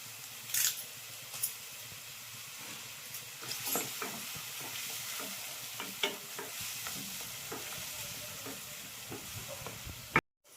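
Curry leaves fry in hot oil for Andhra-style mutton tilli fry, a quiet steady sizzle with sporadic spoon scrapes and small crackles close by, ending in a brief clunk.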